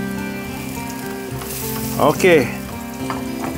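Ulu (breadfruit) fries in a pan with a continuous close sizzle, broken by a brief stirring scrape and a short burst of louder crackle midway, and a voice speaks briefly.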